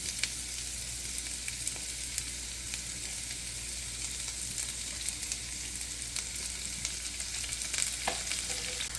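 Chopped onion and sliced green chilies frying with minced garlic in hot oil give a continuous, even sizzle and crackle at close range, faint in level and with no voices.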